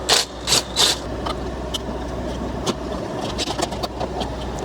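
A Range Rover Sport engine idles nearby in a steady low hum, with a few sharp clicks and short hissing bursts at the start and scattered light ticks over the idle.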